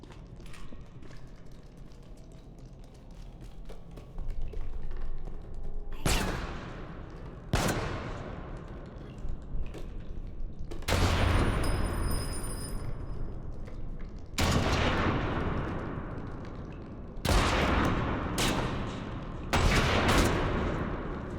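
Pistol gunshots in the video game Reanimal: about seven sharp, loud shots fired at irregular gaps of one to three seconds, each with a short ringing tail, over a low ambient game background.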